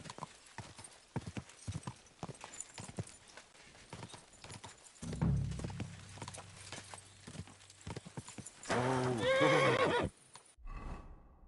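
A horse neighs in a loud, close, rising-and-falling whinny near the end, after a stretch of irregular clip-clop hoofbeats and a low rumble.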